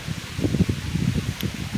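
Leaves rustle in short gusts of wind, a soft continuous crackling swish close by, with no voices.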